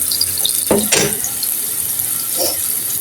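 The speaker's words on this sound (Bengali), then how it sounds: "লাউটি আমি এই ফিট ফিট করে একটু ভেজে নেব আগে" Sliced bottle gourd frying in a pan, giving a steady hissing sizzle close by, broken by a couple of quick clatters of utensil against the pan near the start and a softer one later.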